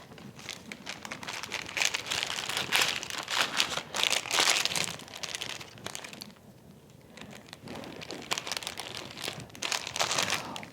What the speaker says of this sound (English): Each of these is going to go in a plastic bag.